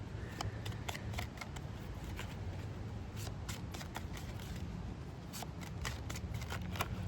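A Divine Nature Oracle card deck is shuffled by hand, producing a steady run of quick, crisp riffling snaps and flutters, close and continuous with no talking.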